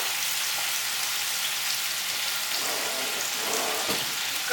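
Bacon frying in a pan for carbonara gives a dense, steady close sizzle with faint crackles, heard alone.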